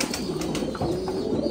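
Pigeons cooing nearby, a low, soft, continuous throaty warble with small bursts of chirps and rustling above it and no talk.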